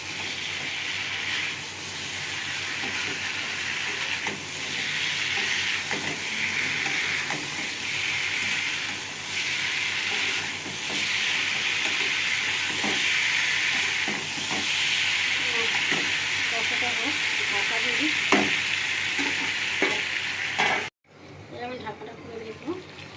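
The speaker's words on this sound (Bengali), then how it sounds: "মাছের সঙ্গে মশলাটা ভালো করে কষে নেবো।" Fish pieces and potato tossed with spice paste and green chilli in a hot pan for a Bengali fish jhal, a steady sizzling hiss with scraping stirs running throughout, cutting off briefly near the end.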